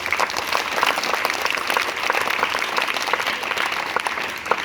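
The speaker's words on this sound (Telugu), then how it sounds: "వాళ్ళ అమ్మగారికి అందరూ గట్టిగా క్లాప్స్ కొట్టాలి" Audience applause fills a school hall at a National Science Day event at ZPHS Boys school in Gudur, Kurnool district: dense, steady clapping that stays loud and even throughout.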